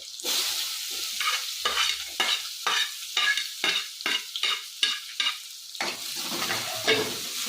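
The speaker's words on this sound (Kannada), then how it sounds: "ಈಗ ಕರ್ಬೇವು ಹಾಕ್ಕೊತೀನಿ ಈರುಳ್ಳಿನೂ ಹಾಕ್ಕೊತೀನಿ" Curry leaves and onion hit hot oil in a tempering for a sprouted fenugreek stir-fry, crackling and sizzling close up with a spoon scraping and stirring in short, repeated strokes.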